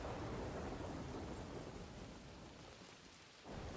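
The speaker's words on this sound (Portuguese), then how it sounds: "Chovendo pra caralho, chovendo pra caralho." Heavy rain pours steadily in the video game The Division 2, a dense hiss with deep thunder rumbling underneath, easing slightly before swelling again near the end.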